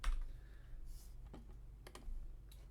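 Keys on a computer keyboard click in a few quiet, close taps while a spreadsheet formula is typed, set against a low background hum.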